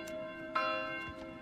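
A church bell in the Manor Lords medieval village rings out, one clear strike mid-moment with lingering hum and fainter strokes around it, somewhat distant and without voices.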